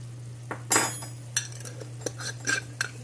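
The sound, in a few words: mixing paprika and spices in a pot on the stove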